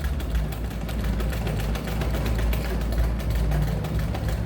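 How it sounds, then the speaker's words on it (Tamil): A tailor's sewing machine stitches fabric in a fast, steady mechanical chatter of closely spaced needle strokes that runs unbroken and fairly loud throughout. "கோடு இல்லாமலும் தைச்சி பழகலாம்"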